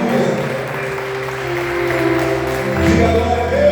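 A church congregation breaks into steady, continuous applause that fills the room, loud and close, with sustained low tones humming underneath and no clear voice on top.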